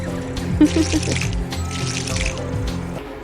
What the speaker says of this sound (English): look at me trying to water the plants with an empty watering can